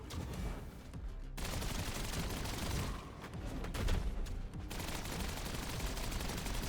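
Video game gunfire rattles in dense, rapid automatic bursts that run almost without a break, loud and close, with a couple of brief gaps between volleys.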